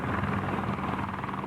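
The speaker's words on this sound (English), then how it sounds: "Apache attack helicopters led the way in the first phase of this ground battle to attack Republican guards just north of Karbala." Apache attack helicopters in combat near Karbala, Iraq, producing a steady, loud rotor drone with a low throb, heard alone without speech.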